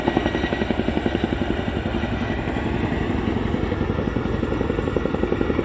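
A Chinook twin-rotor helicopter flies an air show display, its loud rhythmic rotor thudding pulsing steadily and close with a constant engine roar underneath.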